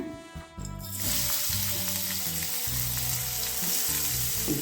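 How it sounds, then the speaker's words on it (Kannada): Onion sizzles in a single spoonful of oil, a bright crackle that starts abruptly after a brief pause and holds steady and close, while a soft tonal hum runs underneath. "ಒಂದೇ ಒಂದು ಚಮಚ ಎಣ್ಣೆ ಹಾಕ್ಕೊಳ್ಳೋಣ ನೀರುಳ್ಳಿ ಹಾಕ್ಕೊಳ್ಳೋಣ"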